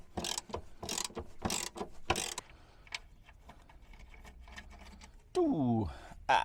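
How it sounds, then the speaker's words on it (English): Ratchet clicking in quick bursts while a bolt is taken off a VW T25 gearbox mount, close and fairly loud. The bursts give way to quieter handling noises near the end. "Bolt's totally in the way, let's just remove it."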